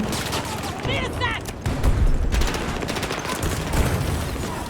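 Dense bursts of automatic gunfire from the video game Battlefield 2042, loud and sustained with heavy low booms and a continuous rattling roar throughout, with a brief whistling effect early on.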